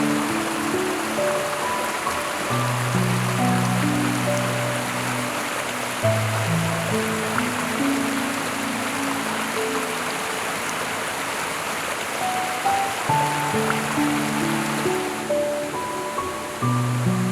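The Muradiye waterfall (Çirava Bêgiriyê) in Van gives a constant, dense roar of falling water, with a melodic instrumental tune playing clearly over it from start to end.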